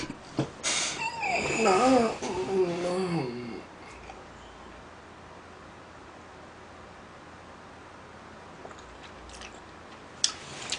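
Soft, close chewing of large meat dumplings during a mukbang meal, faint and intermittent after a brief stretch of voice at the start.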